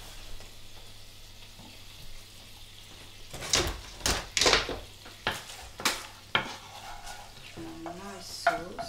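A slice of duck in a pan with Ardbeg whisky sauce, a low sizzle under a series of sharp clinks and scrapes of utensils against the pan, close, with a brief voice near the end.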